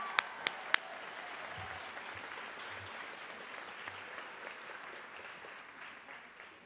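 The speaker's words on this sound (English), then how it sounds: "our families in the audience, please give the blue shirts a round of applause" Audience at a high school graduation ceremony applauding the staff, steady distant clapping from a large crowd filling the hall, with a few sharp taps at the start.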